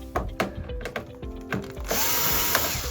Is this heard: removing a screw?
yes